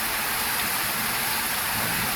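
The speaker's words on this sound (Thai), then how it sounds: "ฝนตกก็ได้นั่งพัก นะครับ รอฝนหยุด" Steady rain falls at a building construction site during a work pause, a dense constant hiss with no talking.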